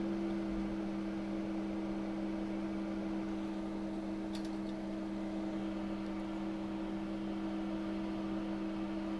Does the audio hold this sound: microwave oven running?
yes